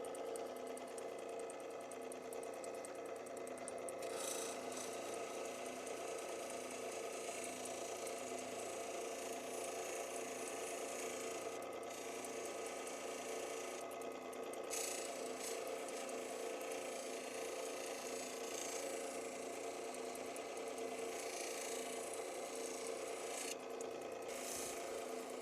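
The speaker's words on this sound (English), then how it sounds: "now I'm going to move over to the final sand, which should be 3000 grit." Oregon sunstone is sanded on a 3000 grit wheel, a steady rasping whir with a constant motor drone that holds for the whole stretch, close and moderately loud, with no talking.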